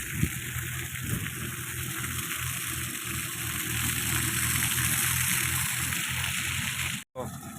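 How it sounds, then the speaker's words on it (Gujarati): Water runs steadily from a hose or pump to spray the ground, a continuous broadband rush that stays loud and close throughout, with a brief dropout near the end. "પાણી ચાલુ છે"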